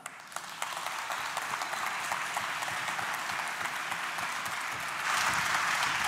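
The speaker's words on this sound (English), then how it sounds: "let's all welcome him now here on stage with a big round of applause" Audience applause fills a hall at a camera launch event, a steady dense wash of clapping that swells louder near the end, with no voices over it.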